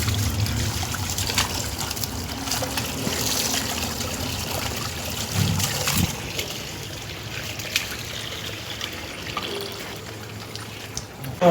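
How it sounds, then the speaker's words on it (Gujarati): Water trickles and splashes steadily as someone washes their hands and feet at home, a continuous close running-water sound with no talking. "હાથ પગ ધોઈ નાખો પહેલાં."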